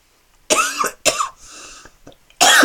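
Several harsh coughs in separate bursts, close and fairly loud, with a raspy throat-clearing sound between them, after vaping e-liquid.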